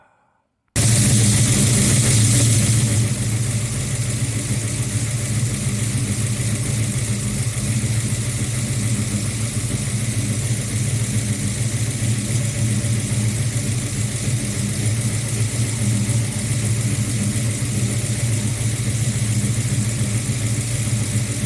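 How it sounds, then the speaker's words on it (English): A Ford Falcon 351 Cleveland V8 fires up after a moment of silence, then settles into a steady, loud, close idle that runs on unbroken as the car warms up, with no talk over it. "And now it's time to start the car up and test out my new toy as the car warms up."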